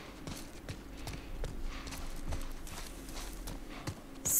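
Horse hooves clip-clop at a steady walking pace in the video game The Last of Us, moderately close, over a low continuous background hum with no talk.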